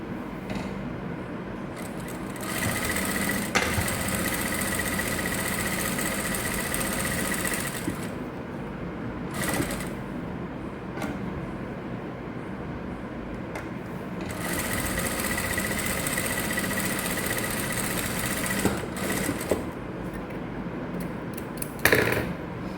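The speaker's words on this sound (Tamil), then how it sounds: "டபுள் நாட் ஸ்டிச் நம்ம இப்போ பார்க்க போகிறோம். இதுக்கு நம்ம 1 இன்ச்சு தையல் தான் நம்ம போடுறோம்." A sewing machine stitching a one-inch double knot seam in fabric: long runs of rapid, even mechanical whirring and needle clatter, broken by short pauses and clicks as the stitching stops and restarts, close and without talk.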